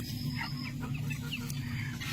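White Japanese hens on a small poultry farm give soft, scattered clucks over a steady low background, with no voices.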